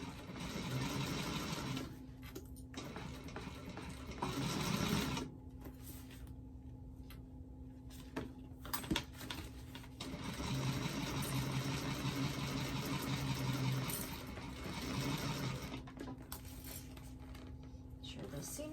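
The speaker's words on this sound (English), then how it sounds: "you're pretty much sewing right along where the foam is" A sewing machine stitches steadily along the foam edge of a doctor bag, a continuous whirring hum with short pauses and restarts, close and fairly quiet.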